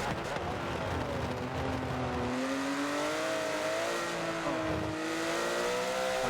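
Porsche GT3 race cars at Silverstone in a racing video game, a loud continuous engine howl with rising and falling revs as the cars accelerate and shift, with no voices.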